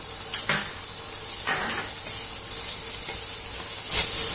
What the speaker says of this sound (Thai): เราจะผัดให้กระเทียมและพริกมีความหอมเล็กน้อย